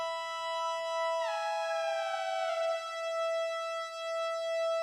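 Two Arturia MicroFreak synthesizer oscillators sound together as steady, bright harmonic tones. They start apart, then glide toward each other and settle close in pitch, with a slow beating shimmer, alone and with no talk.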